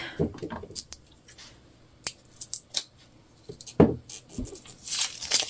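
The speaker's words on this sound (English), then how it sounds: "get some scissors in here." Sharp, irregular snips and crunches of scissors cutting through self-adhesive bag material, close up, with soft rustling and handling noises between cuts.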